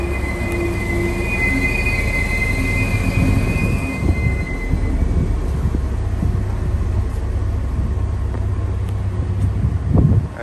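A train bound for Hanau, near Frankfurt, rumbles past at close range with steady rolling noise and wheels squealing on the rails, swelling louder near the end.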